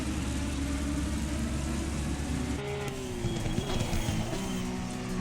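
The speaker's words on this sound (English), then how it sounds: "You hear that Porsche popping." Porsche race car in Assetto Corsa Competizione, engine droning loud and steady throughout, with the note shifting midway and rough exhaust pops and crackles as it comes off throttle.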